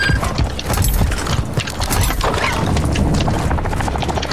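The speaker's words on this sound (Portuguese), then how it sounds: "Helicóptero!" Helicopter in Call of Duty Warzone 2.0, a dense, steady rotor chop and mechanical clatter filling the whole stretch at close range amid gunfire-like game noise.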